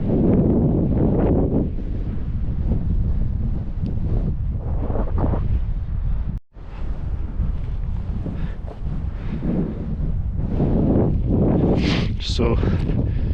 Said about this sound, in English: So it is quite windy